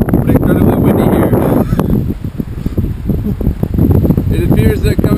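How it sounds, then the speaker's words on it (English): Strong wind gusts buffet the microphone on a sunny Odell Lake shore, a loud continuous roar with rustling and rumble throughout, easing briefly midway before surging again. "it's sunny, but incredibly windy here"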